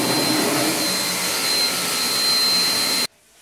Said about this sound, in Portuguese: Ventilador.